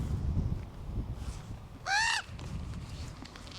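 A crow gives a single short harsh caw at a mountain viewpoint, fairly clear against quiet wind and background noise.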